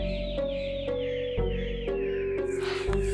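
Birds call from above in a regular rhythm of short, clucking bursts roughly every half second over a steady sustained tone, fairly faint, ending in a brief flurry of higher chirps.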